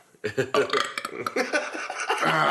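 One person lets out a loud, drawn-out belch, with other people talking and chuckling around it in a close, casual indoor setting.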